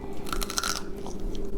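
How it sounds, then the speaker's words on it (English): Someone bites into a sweet, crunchy snack and chews it, making a close, loud series of sharp crunches in quick succession with no talking. "Take a bite and enjoy"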